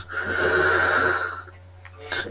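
A voice imitates a big creature snoring in a dream-land fantasy game, producing a long rasping inhale that rumbles loudly for over a second. A quieter snort follows, then a short sharp burst at the end.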